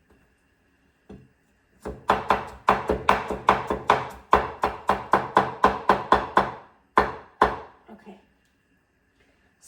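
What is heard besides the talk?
knife chopping chicken wings into pieces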